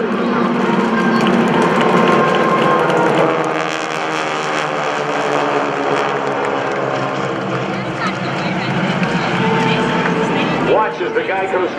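A formation of GEICO Skytypers SNJ-2 propeller aircraft passes overhead at a Rhode Island Air National Guard airshow, a sustained droning engine roar with a steady pitch, heard under an announcer speaking over the loudspeakers.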